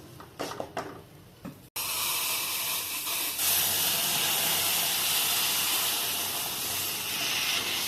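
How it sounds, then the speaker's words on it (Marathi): Water poured into hot ghee-roasted wheat flour sets off a sudden loud, steady steam hiss that holds for several seconds, after a few brief clinks and scrapes at the start. "आता याच्यात आपण पाणी घालू"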